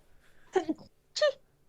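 A short sneeze in two parts, a quick indrawn catch and then a sharp burst, faint and nearby in an otherwise quiet room.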